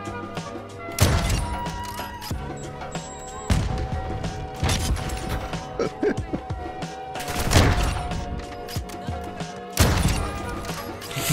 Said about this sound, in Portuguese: O barulho do bolt da sniper parece que é o barulho de tempo quando tá acabando a partida